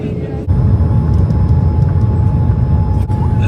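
Steady loud cabin rumble of a passenger airliner landing at Mumbai, a broad low engine and airflow roar with a faint whine, briefly dipping once near the start and again toward the end.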